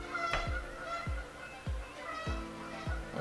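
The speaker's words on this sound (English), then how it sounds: "Those damn geese." Several geese honk outdoors, about five loud, sharp calls at a steady, roughly half-second spacing, heard alone with no talk.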